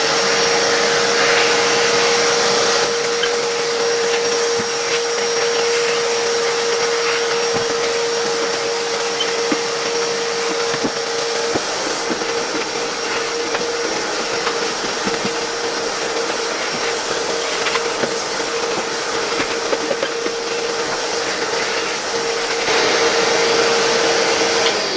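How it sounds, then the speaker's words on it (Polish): A workshop vacuum cleaner drones loudly and steadily at close range with a constant motor whine, running without a break and with no voices. "Mam już odkurzacz, nie brałem żadnego zabytkowego Zelmera, tylko po prostu mój warsztatowy odkurzacz."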